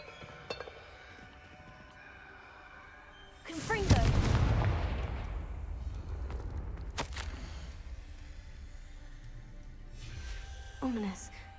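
Confringo blasting curse explosion in Hogwarts Legacy, a sudden loud boom about a third of the way in that rolls off slowly, followed by a sharp crack and a voice talking faintly afterward.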